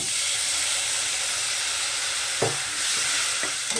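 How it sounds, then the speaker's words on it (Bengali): Ground roasted spice fries with potatoes in a pan, a loud, continuous hiss and sizzle, broken near the end by a few sharp scrapes and clanks as it is stirred. "ভাজা গুঁড়ো মশলাটা সেটাকেও খুব সুন্দর করে ভাজা করে মিশিয়ে নেব"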